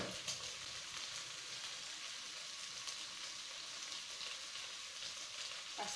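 Chicken cooks in oil with tomato paste about to go in, giving a quiet, even frying hiss that stays steady and faint throughout, and no one speaks.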